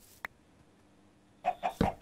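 Chickens in a survival video game cluck in a quick burst of three short calls near the end, preceded by a single brief click amid otherwise quiet ambience.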